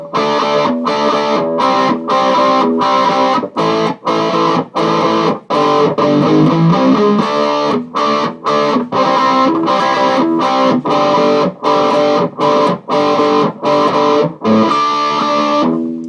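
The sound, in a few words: two-string power chord, distorted electric guitar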